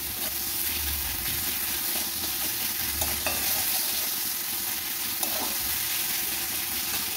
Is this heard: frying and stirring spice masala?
yes